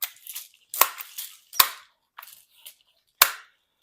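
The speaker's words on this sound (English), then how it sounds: "I'll probably shoot 3 rounds into it." An air-powered BB gun pumped three times fires sharp cracks into a backstop from about 30 feet, with three to four distinct shots spaced apart and brief mechanical clicks between them.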